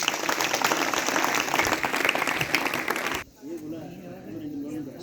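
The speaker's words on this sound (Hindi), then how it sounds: "तो स्नेहा के लिए स्काउट तालियां हो" Students and teachers at a school Hindi Day function applaud loudly in a dense, steady burst that cuts off abruptly, after which only a quieter murmur of room sound and voices remains.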